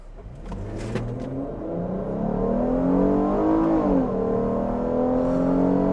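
A 2019 Jeep Cherokee Limited 4x4 accelerates hard from a standstill toward 60 mph, with the engine note rising steadily and dropping briefly at a gear change. It is heard close up from inside the cabin, with no talking.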